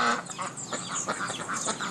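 Farm ducks quack in a busy, overlapping chorus at a poultry yard that also keeps hens, quails and turkeys, with several birds calling close by in quick irregular bursts.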